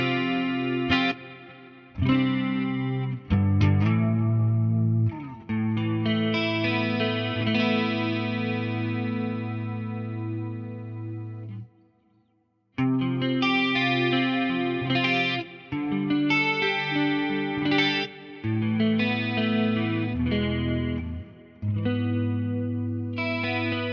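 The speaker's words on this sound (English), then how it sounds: "typically for this kind of pure clean tone with a lot of chorusing" Clean electric guitar chords and single notes through a Quad Cortex ring out with a shimmering chorus effect, played alone with brief pauses between phrases.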